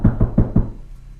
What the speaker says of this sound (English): More knocking.